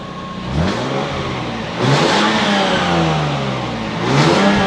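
A Lexus IS200 with its muffler removed revs loudly and close by, rising in three distinct throttle blips over a steady, raspy idle.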